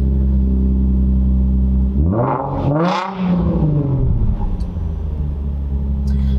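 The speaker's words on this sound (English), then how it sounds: "Now, I do have an aftermarket exhaust on this car, so it does sound pretty cool." A loud, close Nissan 350Z engine with aftermarket exhaust idles with a deep rumble, then revs up sharply once and settles back to a steady drone.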